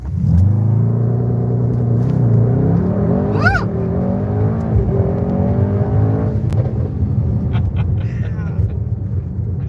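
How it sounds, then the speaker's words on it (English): A 2020 Mercedes-AMG GT 63 S in race mode revs and launches at full throttle, a loud sustained engine roar climbing through the gears, with a voice over it. "we're in race mode. We're gonna go full brake,"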